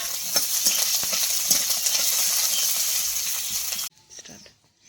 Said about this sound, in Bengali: পেঁয়াজটা আবার ভেজে নেব।